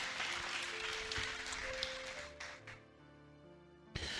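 A church congregation claps in praise during a worship service, a moderate burst of applause that thins out and fades, leaving sustained organ or keyboard tones beneath before a brief final clap.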